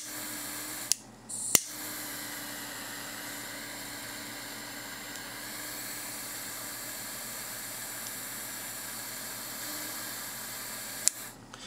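A Micro Blazer jet lighter, turned up quite high, gives a few sharp ignition clicks and then a steady, quiet hiss of flame that continues alone.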